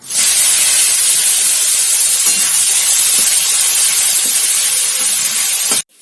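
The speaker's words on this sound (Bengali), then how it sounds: "তেল গরম হয়ে যেতে পেঁয়াজগুলো আমি ছেড়ে দেবো" Onions dropped into hot oil in a pan give a loud, steady, close hiss of sizzling that holds evenly for several seconds, then cuts off abruptly.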